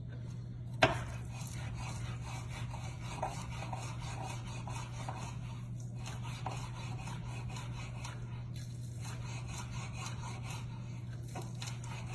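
A knife dices vegetables on a cutting board while chili is made, with steady, soft, rapid chopping taps over a low background hum and one sharper knock early on, with no talk.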